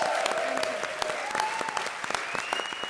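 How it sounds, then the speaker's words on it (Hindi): Studio audience on the Hindi comedy show Comedy Circus breaks into loud, sustained applause, a dense patter of clapping lasting the full three seconds with a faint musical tone beneath. "जोरदार तालियां हो जाए"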